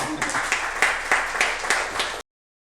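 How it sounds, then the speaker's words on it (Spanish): Congregation applause at a Spanish-language church gathering, a short round of clapping with noticeable rhythmic peaks that stops abruptly. "Yo voy a pedir un aplauso."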